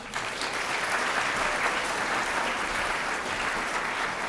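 Audience at an awards ceremony applauds Blind Man Brewery, a dense, sustained wash of clapping from a large crowd, steady and loud from start to finish.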